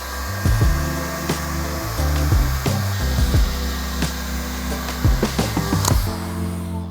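Heat gun blowing a steady hot-air whoosh onto paint protection film along the inside edge of a 2020 Chevy Corvette fender during a Vicrez pre-cut PPF install, with scattered handling clicks and taps over the continuous hum.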